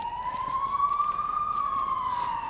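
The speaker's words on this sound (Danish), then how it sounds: "Lidt sirener" A single siren wails steadily at a moderate distance, its pitch slowly rising and falling over a faint urban background.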